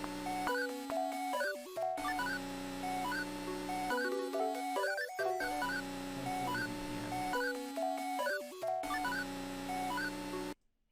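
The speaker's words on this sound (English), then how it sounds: "the beat, or the original loop I started with, sounds like this." A looped instrumental beat made in FL Studio 20 plays a repeating single chord and melodic figure that cycles about every four seconds, steady and clear with no voices.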